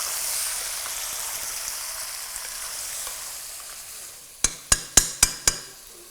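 Mutton dropped into light brown onions in a pressure cooker, setting off a steady near sizzle of frying, followed by five sharp metallic knocks of a utensil in quick succession.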